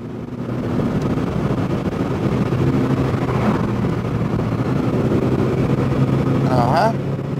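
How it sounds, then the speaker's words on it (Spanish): A Chrysler Neon with a faulty automatic transmission that is slow to shift, heard from inside as a steady engine drone and road rumble while driving, constant and fairly loud throughout. "Tarda para cambiar."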